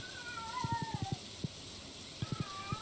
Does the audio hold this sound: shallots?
no